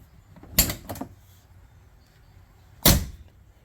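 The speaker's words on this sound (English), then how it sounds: "twist down on the handle, opens right up" The exterior door handle on a Can-Am X3 side-by-side is twisted and the door opens, giving a sharp latch clack followed by a softer rattle, then another crisp clunk a couple of seconds later in an otherwise quiet space.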